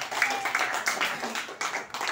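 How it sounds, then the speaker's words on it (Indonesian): A classroom of students claps together in a brief round of applause, with dense, fairly close hand claps rising and fading over about two seconds and no talking. "Kita berikan tepuk tangan."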